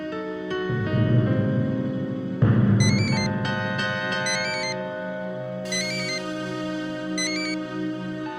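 A mobile phone ringtone plays loud and steady, a sustained electronic melody with layered tones and bright chiming notes that repeat, nothing else audible.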